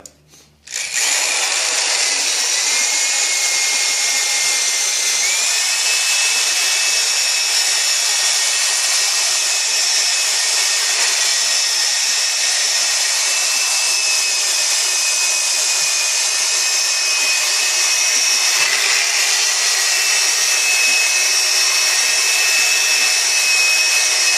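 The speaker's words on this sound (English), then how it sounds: "So just try to hold the drill bit as best as you can" A power drill bores out spot welds in the roof of a Mitsubishi Evo 8/9, starting abruptly and then running as a loud, steady high whine for over twenty seconds, its pitch shifting slightly as the bit bites.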